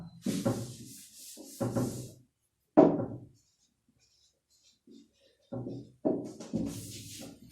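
Scratchy strokes of writing on a board during a Class 9 maths lesson on the area of quadrilaterals with Heron's formula, coming in several short bursts separated by quiet pauses, close and moderately loud.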